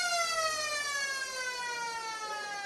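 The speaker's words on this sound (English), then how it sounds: "and there is the siren" The final siren sounds at the end of an under-15 girls' Australian football match, a loud sustained wail whose pitch slowly falls over a couple of seconds.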